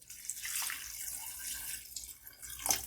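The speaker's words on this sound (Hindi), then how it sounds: "अब हम इसमें 2 गिलास पानी ऐड करेंगे," Water from two glasses poured into a pot of chicken karahi, a soft continuous splashing and trickle, close and fairly quiet, ending in a brighter splash.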